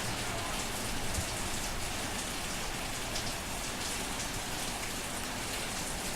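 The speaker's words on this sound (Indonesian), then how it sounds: "Mungkin efek karena hujan ya." Rain falls in a dense, even hiss, a steady patter on surfaces that stays constant throughout, fairly faint and with no voices.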